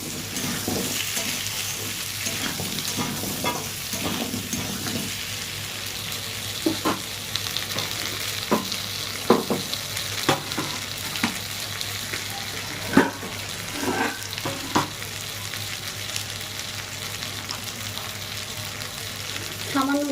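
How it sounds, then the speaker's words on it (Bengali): Potatoes and pointed gourd fry together in oil for a prawn curry, a constant close sizzle broken by repeated clacks and scrapes of stirring. "সাথে সাথে পটলটা আরও একটু ভালোভাবে ভাজা হয়ে যাবে"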